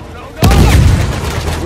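A grenade launcher fires in the video game Uncharted 4, a single loud boom that hits abruptly and rolls out into a long, heavy rumble.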